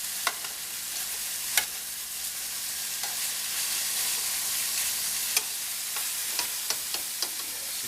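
A sirloin steak sizzles in a frying pan with a steady, fairly quiet hiss broken by scattered sharp pops and crackles, close up, with no talking.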